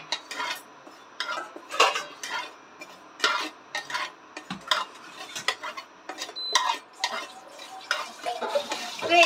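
Dried kasuri methi being stirred in a dry wok, a spatula scraping and tapping the metal in irregular bursts, close and fairly quiet, with no talking.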